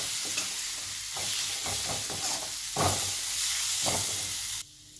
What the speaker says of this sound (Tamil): இது ஒரு 5 நிமிஷம் பச்சை வாசம் போகிற அளவுக்கு ஃப்ரை பண்ணிக்கலாம்